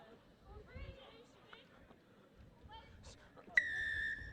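A referee's whistle at a UK tag rugby nationals match gives one sharp, sustained blast near the end, following faint voices and footsteps on the field.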